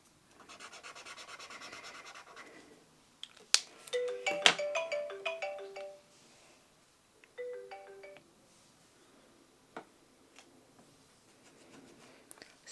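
A phone ringtone chirps in two bursts of tonal notes, the first louder and longer, after steady rubbing and rustling from an art supply unboxing and paint swatching; faint scrapes and taps follow.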